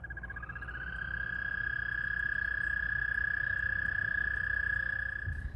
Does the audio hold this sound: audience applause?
no